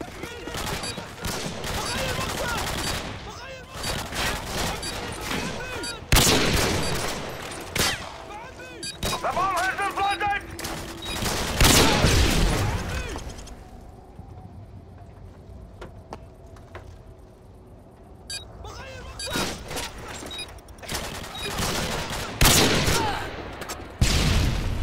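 Rapid bursts of gunfire from the video game Black Ops 2 Remastered during trickshot play, with dense volleys and single shots spread across the clip, loud and close, and brief quieter gaps between volleys.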